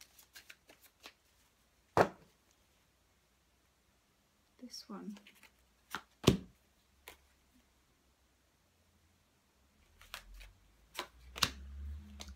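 Soft tarot card shuffling in short bursts with crisp snaps, close by, alternating with brief quiet spoken remarks.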